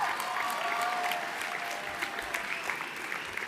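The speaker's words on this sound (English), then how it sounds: "Let's have a round of applause for John back there" An audience at the Oxford House World Convention 2022 general session applauds in a large room, a sustained wash of clapping from many hands that tapers slightly toward the end.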